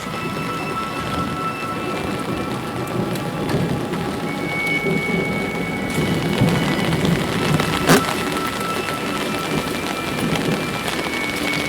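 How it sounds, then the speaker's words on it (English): Heavy rain pours steadily while thunder rumbles and cracks overhead, building in intensity midway with a sharp close crack near the end, loud and continuous with no voices. "Thunder cracks the sky."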